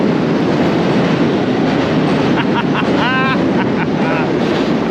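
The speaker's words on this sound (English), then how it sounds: "Train!" A train passing by on a railway at flooded Peterborough, with a continuous rumbling roar, heavy wind buffeting the microphone and a brief horn-like tone partway through.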